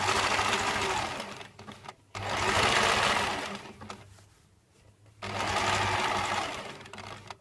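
A sewing machine stitches around a curved fabric heart appliqué in two long, loud, buzzing runs, each stopping briefly before the motor starts again, with no talking.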